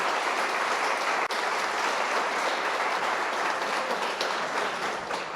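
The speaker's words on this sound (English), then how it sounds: "please give them a round of applause" An audience at a panel event at the Ethics Centre in Sydney claps steadily for several seconds, a soft, even wash of applause heard from within the room, no talking over it.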